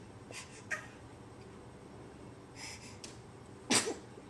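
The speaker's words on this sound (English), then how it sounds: "I think every video we have you sneezing." A dog sneezes once, sharp and close, near the end, after a few faint snuffles and small movement noises.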